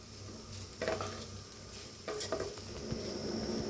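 Raw mango rice with fresh coriander is stirred in a pot, with a few scraping and clinking spoon strokes over a soft sizzle, close and moderately loud, with no talking.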